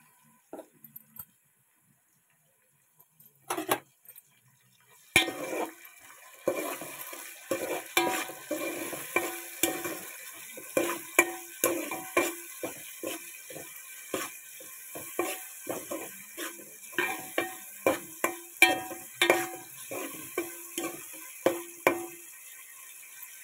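Tomato pieces are dropped into a pan of frying chicken curry. After a near-silent start come a few light knocks, then a dense run of clattering stirs and scrapes over a soft sizzle, close by and with no speech.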